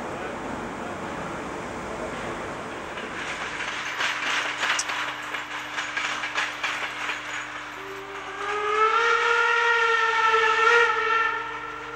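A steam locomotive rolling through curves on soft track, a loud steady rumble with rhythmic rail clatter, then a sustained tonal squeal or whistle rising over the running noise near the end.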